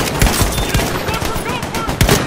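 Video game gunfire in a boat game match, continuous rapid shots and overlapping bursts forming a dense, loud clatter throughout with scattered sharper cracks.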